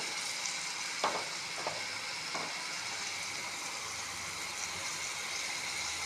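Cauliflower fries in a pan of masala with a steady, loud sizzle and hiss, broken by a few brief stirring scrapes.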